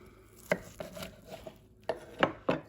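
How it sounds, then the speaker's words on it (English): Knife chopping through smoked baby back ribs on a cutting board, several sharp separate cuts spaced irregularly, close and fairly quiet with no talk. "Just slice it right down the middle."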